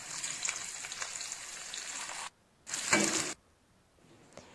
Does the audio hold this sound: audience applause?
no